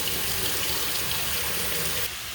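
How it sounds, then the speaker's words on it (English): A kitchen tap runs steadily for about two seconds while flour is rinsed off fingers, a broad close splashing rush that is then cut off, leaving quieter room noise. "Rinse the extra flour out of my fingers."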